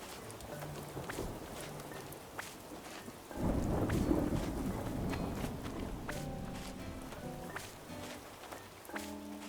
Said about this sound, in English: like the thunder and the rain